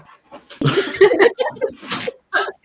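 A sudden, loud sneeze bursts out close by, followed by brief voices and light laughter.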